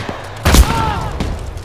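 An in-game mortar round explodes with a single loud, close boom in the WWII-era shooter ArmA 3, followed by a low rumbling tail and faint distant gunfire.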